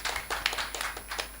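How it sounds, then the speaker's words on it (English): Brief scattered clapping from a small group, light and uneven, lasting only a moment and fairly quiet. "please give big applause."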